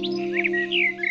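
A small pink cartoon bird chirps in a few quick, bright tweets over a steady musical background, close and clear, with no talking.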